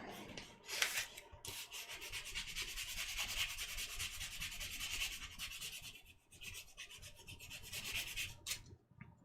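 Steady, rhythmic scratchy rubbing of high-grit wet sandpaper over a surface, continuous strokes with a few short pauses, close and fairly quiet.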